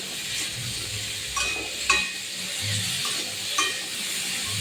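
Vegetables are stirred with salt and turmeric in a pan, a soft, steady sizzle broken by a few sharp spatula scrapes and taps against the pan.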